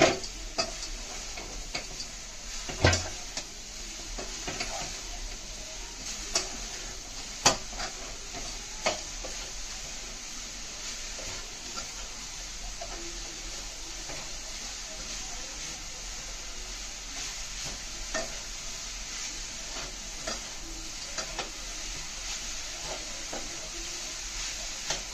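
A spoon stirs and mixes sweet modak filling in a pan, with scattered soft scraping taps over a steady low hiss throughout, close and alone with no voices.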